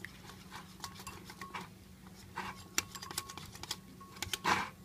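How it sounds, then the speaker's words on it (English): A whisk beating custard powder and milk into a paste clicks and scrapes quickly against a bowl in irregular bursts, close and fairly quiet, with a louder clatter at the end. "Give it a whisk."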